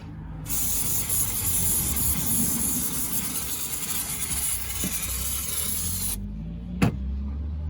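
A sustained hissing spray of fluid squirted into a BMW E36 differential lasts several seconds, then stops abruptly, followed by a short metallic clunk.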